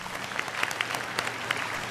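Audience applause for two performers on a Vietnamese TV singing-duet show, a steady wash of clapping with a few sharp louder claps standing out, moderately near and continuous with no talking.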